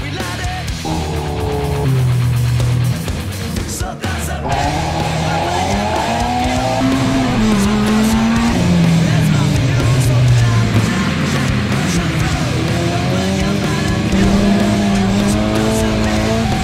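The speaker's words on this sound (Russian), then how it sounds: "Это гоночная машина «Волга» по требованиям НЛС." A Volga race car built to NLS rules runs loudly at a racing event, its engine droning and shifting pitch steadily throughout with a brief break, recorded from nearby.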